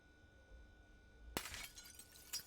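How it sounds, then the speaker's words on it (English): Broken window glass is knocked out of a frame in the zombie survival game Project Zomboid: after a quiet stretch, a sudden crisp shatter is followed by a scatter of tinkling shards and a smaller clink near the end. "I'll remove the broken glass from this window."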